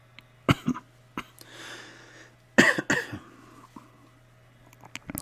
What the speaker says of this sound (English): I'm trying to not cough and or frog gurgle.